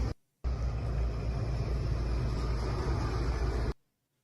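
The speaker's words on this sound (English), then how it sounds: "we can see the trucks passing by with the flag of the Russian Legion" Trucks carrying flags roll past in a steady, broad rumble that starts abruptly after a brief silence and stops just as suddenly, loud and close, with no voices.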